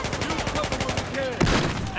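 Rapid bursts of gunfire in the Battlefield 4 video game, dense repeated shots that continue throughout and end in a sharper blast, with faint talk mixed in.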